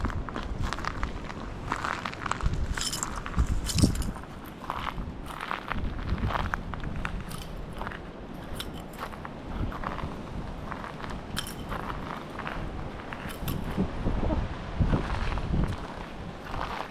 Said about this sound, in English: Yes, folks, that is the sound of shells.